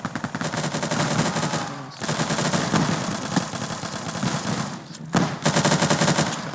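A VBSH pump-action bullet hose gun firing in a video game, loud, fast automatic bursts of rapid shots with two short pauses between long volleys.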